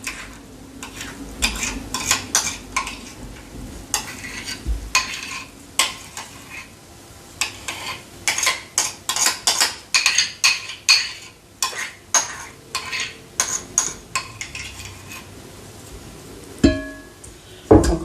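Sugar, vanilla sugar and softened butter being mixed in a bowl for an orange-lemon cake, with a quick run of clacking utensil strokes and scrapes against the bowl.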